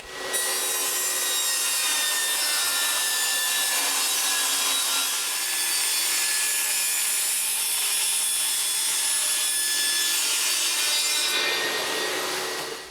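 A hand saw cuts through a custom-width piece of vinyl fence material in steady, continuous back-and-forth strokes. The sound is close and loud and runs for about eleven seconds with no voices.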